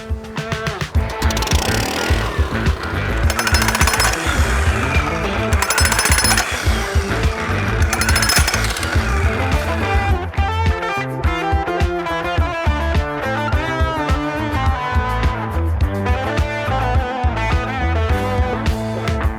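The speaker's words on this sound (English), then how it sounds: "I'm gonna take this concrete breaker and try to chip off these" Concrete breaker chipping edges off a concrete valve box while a drip irrigation system is installed: loud, rapid jackhammer pounding in bursts with short pauses, then a long sustained run of hammering, close up.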